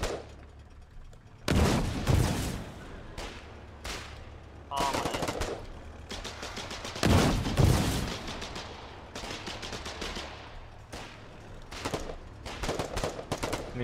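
Vehicles in the Foxhole video game firing their guns in repeated loud bursts of gunfire and heavy shots over about fourteen seconds, with a steady rumble continuing between the volleys.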